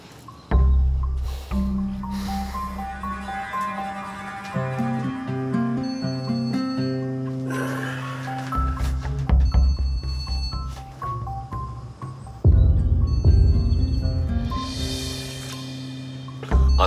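A telephone rings with a repeating melodic electronic tone that sounds loud and clear over musical background, with no talking.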